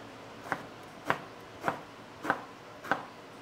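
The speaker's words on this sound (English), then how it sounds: "So now that we've diced our eggplant" Five evenly spaced knife chops through eggplant with the skin left on, each a crisp thud on a cutting board about half a second apart, moderately close with no talk.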